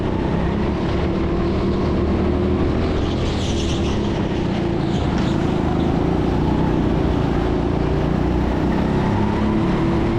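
Go-kart engines race around an indoor track at a karting venue in Sheffield, a loud, steady, close-up engine drone with a dense, continuous roar throughout.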